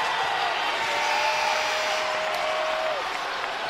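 A basketball crowd at a Cowley vs Dodge City college game claps and cheers in a steady, sustained wash of applause, with a whistle-like tone briefly rising over it.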